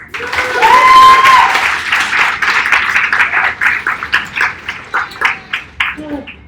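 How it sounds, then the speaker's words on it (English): Audience applause welcoming Rebecca Turner, an NPM tech lead, onto a stage: a loud swell of clapping that holds steady, then thins into scattered, spaced claps before fading, with some voices mixed in. "please, a warm round of applause for Rebecca."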